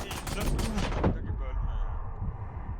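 Gunfire in the tactical shooter Valorant cracks out in a rapid burst of shots, loud and close, then cuts off to a quiet tail while a player talks over it.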